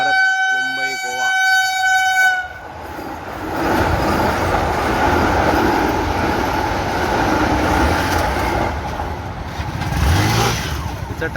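A Vande Bharat Mumbai–Goa express train on the Konkan railway, opening with a loud horn blast before a continuous, heavy rumble and roar of carriages passing close by, with a voice talking over it.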